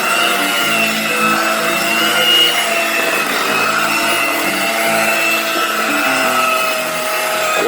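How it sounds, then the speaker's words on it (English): A blender whirs steadily through banana walnut cake batter, a continuous close motor drone with grinding texture and no voices. "One more blender."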